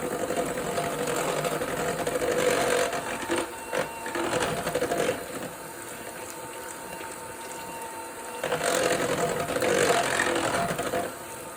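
Budget stand mixer styled like a KitchenAid runs steadily with a constant whirring motor drone, a few louder surges and rattles partway through, with no talking.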